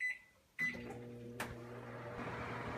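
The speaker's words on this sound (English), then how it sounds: "you recover it and microwave it for another minute and a half" A microwave oven hums steadily after a brief click and thump as it starts, its low drone running continuously and fairly close, with a short clatter partway through, while chicken fettuccine reheats inside.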